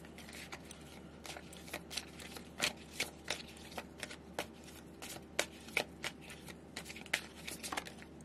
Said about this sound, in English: The way I shuffle probably drives people batty